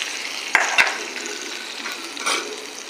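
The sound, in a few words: hot tempering poured into coconut chutney and stirred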